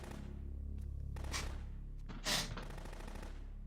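Sustained rapid automatic gunfire from Metal Gear Solid 2: Sons of Liberty, set on the Big Shell, a dense continuous rattle with a few louder bursts over droning game sound.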